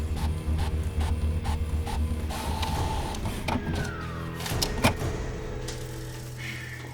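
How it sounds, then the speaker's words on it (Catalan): An office printer runs through a print job, with a steady mechanical whir, repeated ratcheting clicks and a brief rising motor whine, all close by over a constant low hum and with no talk. "Imprimint."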